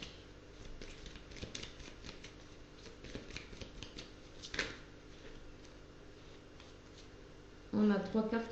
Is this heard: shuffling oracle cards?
yes